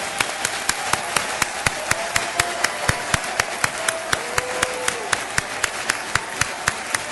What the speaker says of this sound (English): giving a rousing round of applause for Urban Prep's college counseling team